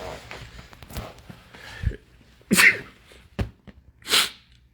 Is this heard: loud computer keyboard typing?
no